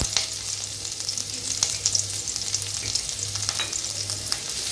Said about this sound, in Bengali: তার সাথে আমি অ্যাড করব 4টে শুকনো লঙ্কা আর একটা কাঁচা লঙ্কা দিয়ে আমি একটু হালকা করে ফ্রাই করে নেব।